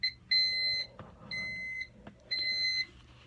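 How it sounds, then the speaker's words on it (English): A Thermco ACC895WRFT wireless temperature sensor sounds its audible alarm with no external probe connected: three loud, clean electronic beep bursts of about half a second each, evenly spaced, with faint clicks between them. "And now we're getting an alarm because we have no external sensor connected."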